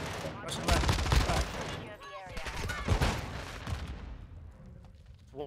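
Rapid gunfire from a Modern Warfare 2 multiplayer match, dense bursts of shots crackling almost continuously with a brief lull near the middle, while players talk over the action.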